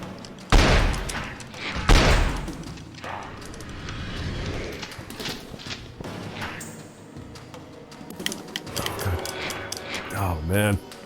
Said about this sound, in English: Why are you shooting down, Mulder?